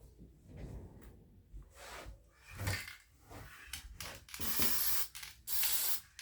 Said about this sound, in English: I'm gonna put this polyacrylic protective finish over the glasses before I spray paint it.